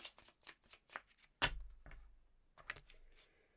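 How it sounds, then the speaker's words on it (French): Tarot cards being shuffled and drawn, quick papery riffles followed by a sharp slap of a card and a few softer flicks, close and quiet. "on va tirer donc 3 cartes bonus pour le week-end"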